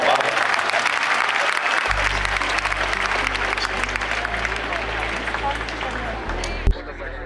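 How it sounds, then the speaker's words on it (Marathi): A lecture-series audience bursts into sustained clapping, a dense, even wash of applause with faint voices underneath, easing toward the end. "टाळ्या टाळ्या. वा वा वा."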